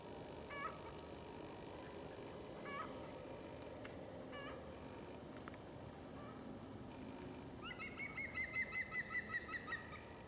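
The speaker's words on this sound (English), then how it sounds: "Green woodpecker." A green woodpecker calls from woodland beside a chalky valley path in Kent, ending in a faint, distant laughing series of rapid, evenly spaced notes. Scattered softer calls come before it.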